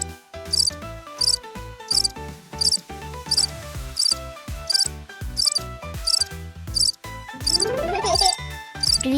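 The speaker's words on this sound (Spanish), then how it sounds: "Esto es un grillo." A cricket chirps in quick, evenly spaced high bursts that repeat steadily throughout, set over a busy music track that continues underneath.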